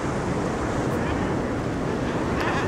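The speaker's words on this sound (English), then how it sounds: "The noise is incredible, the crashing of waves, the birds calling." Waves crash against a sea stack at Stack Rocks, Castlemartin, as a steady loud roar of surf, with wind buffeting the microphone; thousands of nesting guillemots are present, though their calls are not clearly separable from the surf.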